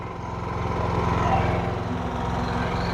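A DuroMax XP9000iH 459cc dual fuel digital inverter generator runs steadily, already warmed up, with a loud, even engine drone and a low, fast pulsing hum throughout.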